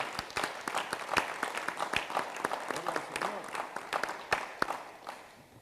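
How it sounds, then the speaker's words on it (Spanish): Steady applause from a congregation at a church worship service, dense clapping with scattered sharper claps, fairly loud and continuous throughout. "Démosle un aplauso fuerte al Señor"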